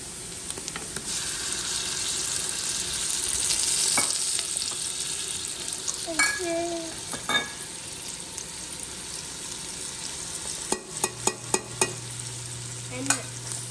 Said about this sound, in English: Now that our onions have started to brown, we're going to add our minced garlic and our spices.